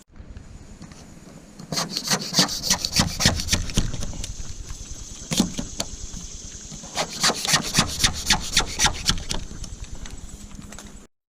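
Galvanneal and sheet metal on a school bus body being cut along a line, heard as rapid rhythmic rasping strokes in loud bursts with a short pause midway.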